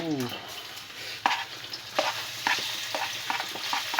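Eel frying in very hot oil, stirred as it cooks: a sizzling bed broken by repeated sharp scraping clatters of the utensil against the pan, close and fairly quiet, with no talk.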